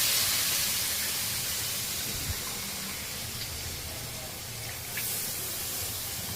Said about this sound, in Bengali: এবার পরিমাণ মতো একদম জল দিয়ে দিচ্ছি।